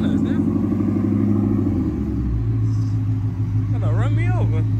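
A Ford Mustang GT engine revs while the car does donuts, a deep, loud rumble that swells and builds midway, with a brief voice near the end.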